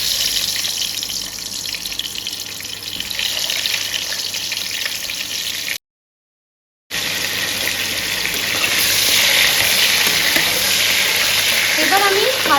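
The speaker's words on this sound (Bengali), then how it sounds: "এইবার আমি ভেজে নেব তেলে।" Spiced potatoes for Bengali aloo dum frying in hot oil, a steady loud sizzling hiss that runs on, cuts out briefly to silence, then returns and grows a little louder.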